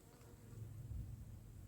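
A honey bee buzzes at the entrance of a polystyrene hive in January, a steady low continuous drone close to the microphone that swells slightly midway with no talking.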